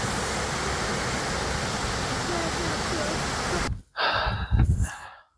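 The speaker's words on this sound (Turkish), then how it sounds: "Az ileride bir şelale var." Waterfall near Borçka Karagöl lake in Artvin, a steady loud broadband roar of falling water for several seconds, then abruptly cut to brief bursts of rushing water and a short voice-like gasp near the end.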